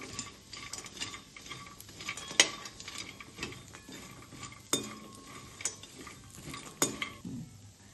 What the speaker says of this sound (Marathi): छान परतून घ्यायचं हे खमंग होईपर्यंत